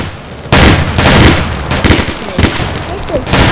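A rapid series of loud, close gunshots in several sharp bursts, with a voice in the background.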